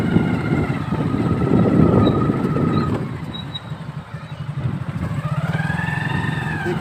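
Motorcycle engine running steadily as the bike rides through a village crossroads, a fairly close, continuous hum that dips midway and then rises again with rising engine tones.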